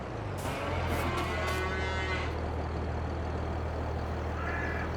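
Cows in Farming Simulator 22 give low, drawn-out moos near the start, with a steady low engine-like hum continuing underneath throughout and a faint higher call near the end.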